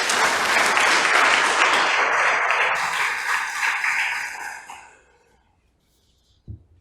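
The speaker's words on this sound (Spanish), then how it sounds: "Un fuerte aplauso." An audience gives a strong round of applause at a book presentation, dense clapping that holds for several seconds, then tapers off into near silence, ending with a faint knock.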